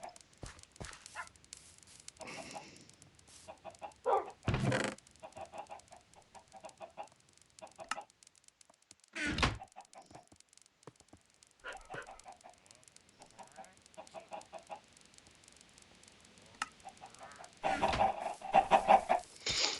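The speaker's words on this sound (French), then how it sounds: "il y a toutes les poules là. Alors, là, on les entend" Chickens cluck in short, faint bursts within Minecraft gameplay, scattered across a quiet background with occasional louder game noises.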